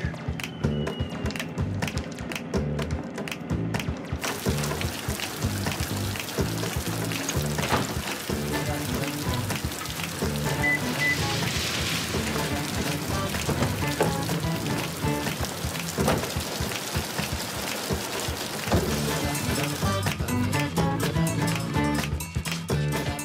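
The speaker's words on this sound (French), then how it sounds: "Ben là, il pleut." Steady rain falls outside, a dense unbroken hiss and patter at even loudness that runs the whole time, with the softer high spray fading in and out at the start and end.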